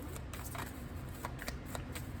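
A deck of tarot cards is shuffled close up, a rapid papery riffling and flicking that runs continuously through the short stretch.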